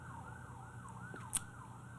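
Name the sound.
emergency vehicle sirens outside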